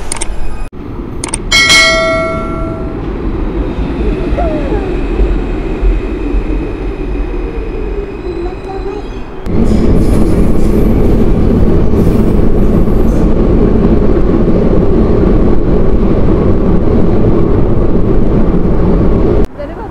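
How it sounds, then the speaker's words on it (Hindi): A metro train rumbles into a station near an Indian embassy with a loud, steady low roar that intensifies midway; a chime sounds early on, and faint voices are present. "तो यहाँ हमारी अभी मेट्रो आने वाली है इस डायरेक्शन में"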